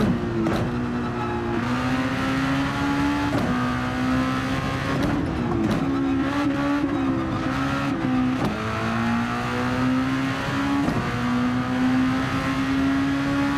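Race car in Gran Turismo 7 lapping the Red Bull Ring: a loud, close engine whine rising and falling with gear shifts and throttle changes, with occasional brief tire noise.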